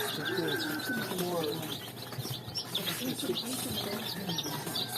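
Chicks in a chicken coop cheep and peep in quick high calls, with lower cooing from adult birds and a person talking through part of it, close and moderately quiet.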